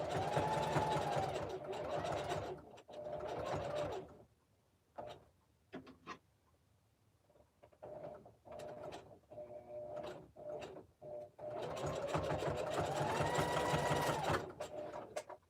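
A sewing machine stitching a jelly roll rug made of fabric strips: a loud, close whirring run at the start, short stop-start bursts in the middle, then another sustained run to the end, with some talk mixed in.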